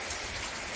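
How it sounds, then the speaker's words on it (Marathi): Rain falling steadily outdoors during a monsoon shower in a village, a dense even hiss of drops on surfaces with no voices. "म्हणजे पाऊस आला ना"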